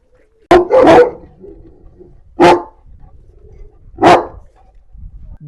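A Gaddi dog barks three times nearby, loud, sharp woofs spaced a couple of seconds apart with quiet between them.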